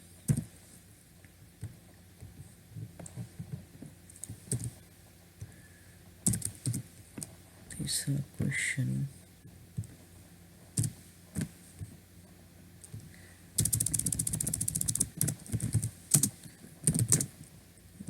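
Typing on a computer keyboard, heard as bursts of quick close key clicks separated by pauses, with a denser rapid flurry of keystrokes toward the end.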